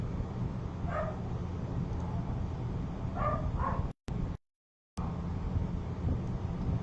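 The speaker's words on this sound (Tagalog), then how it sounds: "Ang ingay ng aso, narinig nyo ba?" A few distant dog barks ring out over steady wind and road noise, with a brief dropout in the middle.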